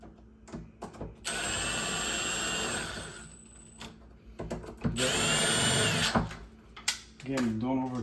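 A power drill driving long screws into a fingerprint smart lock runs in two sustained whirring bursts, with short handling clatter between them and a voice speaking nearby.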